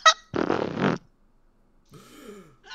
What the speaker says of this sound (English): Who farted?